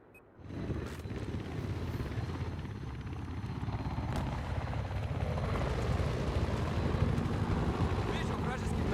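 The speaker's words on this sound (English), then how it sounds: "But it's nice because you can see what the helicopter is doing." A helicopter in the video game Battlefield 4 drones steadily throughout, a broad, continuous engine and rotor roar mixed with game battle noise and some talk.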